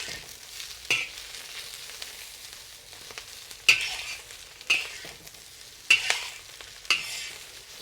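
French beans stir-fried with garlic and dried shrimp in a hot pan give a steady soft sizzle. A spatula scrapes and tosses them in sharp periodic bursts about once a second, with no voices.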